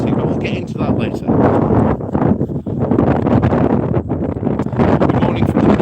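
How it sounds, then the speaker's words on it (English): Outdoors on a windy morning walk in the Netherlands, gusts buffet the microphone with loud, rumbling low-end roar that swells and dips unevenly throughout, masking other sounds, while a person talks underneath. "Yeah, it is a bit windy again, unfortunately."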